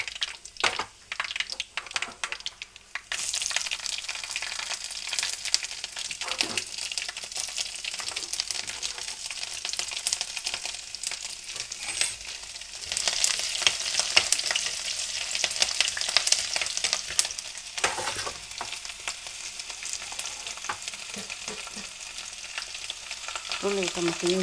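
Garlic sizzles and crackles loudly in hot oil with mustard seeds and curry leaves in a pan, a dense, steady frying hiss with occasional stirring scrapes, close up and without speech.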